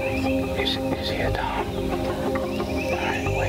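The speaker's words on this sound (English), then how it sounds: "Birds are right on cue." Wild turkeys cluck softly and intermittently in the woods during a Florida hunt, with hens and longbeard toms approaching, the calls sitting over a steady outdoor background.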